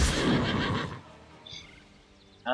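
Horse from the Heroes of the Storm game lets out a single loud, close whinny that fades after about a second, followed by faint game sounds.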